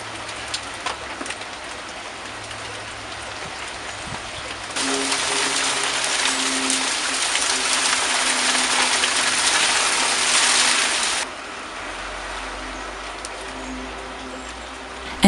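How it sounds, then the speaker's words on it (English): Rain begins falling with wind, a steady broadband hiss that swells loudly in the middle stretch and then eases back to a softer patter, with no talk over it. "The wind picked up and rain started to fall."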